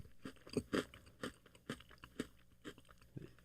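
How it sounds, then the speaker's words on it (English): Steady, close chewing of crunchy food with regular bite-by-bite crunches in a heavy rhythm, about seven distinct chomps over a few seconds with no talking. "You have a nice rotation of chewing"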